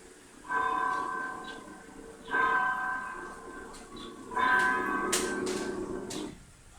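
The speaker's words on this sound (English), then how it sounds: "It was coming from the bells in a church steeple." Church steeple bells ring out in three sustained swells, each with a long humming resonance that fades before the next peal; moderately distant with a quiet background.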